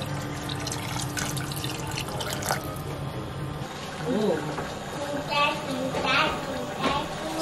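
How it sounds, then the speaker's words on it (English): Water poured into a cooking pot during Congolese batch cooking, a gentle running and splashing pour with drips, fairly faint under kitchen background noise. "So now I'm gonna add some water and I'm gonna leave it to cook."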